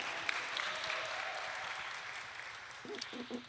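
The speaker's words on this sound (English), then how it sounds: "Clap, clap." Audience applause at a Saturday morning forum, a steady wash of many hands clapping that gradually fades, with a few voices near the end.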